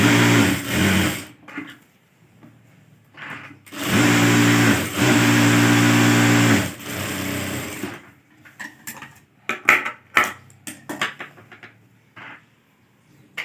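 A sewing machine stitches folded fabric for a dress sleeve in loud, close bursts of rapid whirring, with several runs separated by pauses, then softer clicks and fabric handling.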